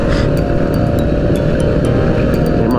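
Several motorcycles ride together on a Malaysian group tour ride, a loud continuous engine drone with steady rumble and no breaks, close by throughout.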